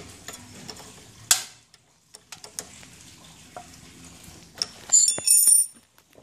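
A 12 mm wrench tightens the brake adjuster on a Can-Am Spyder, giving soft mechanical clicks and metallic taps. A sharp ratcheting burst comes near the end amid quiet workshop handling.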